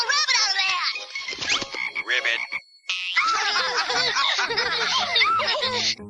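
Cartoon frog croaking, a loud busy run of rapid, bubbly croaks and chirps that breaks off briefly and then resumes, mixed with giggly, laugh-like sounds.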